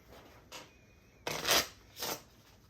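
A deck of playing cards is shuffled in a quiet room: a short riffle, then a louder extended riffle and a final bridge-like burst, close and crisp with no talking.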